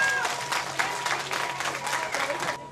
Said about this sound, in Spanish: se escuchen esas palmas.